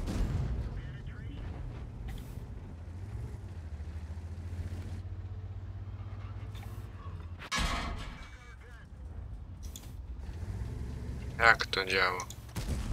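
Tank cannon shots in the video game World of Tanks, a few sharp, loud blasts standing out over a low engine rumble, scattered among casual talk.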